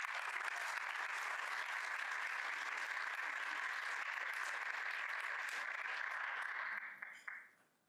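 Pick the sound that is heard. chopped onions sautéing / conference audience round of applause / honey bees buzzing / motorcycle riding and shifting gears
conference audience round of applause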